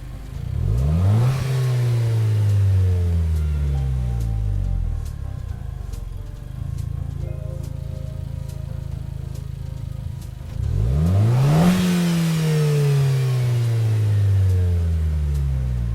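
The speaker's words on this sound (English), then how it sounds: "Sound here comes courtesy of the Renault Captur S Edition" Renault Captur S Edition SUV engine in Gran Turismo 7, two strong rising revs as the car accelerates through the gears, with a steadier cruising drone between them and loud, close engine noise throughout.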